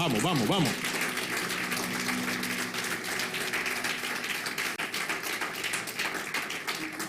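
Church congregation applauding during a sermon, a steady wash of clapping that starts under a brief sung or spoken voice and then continues alone.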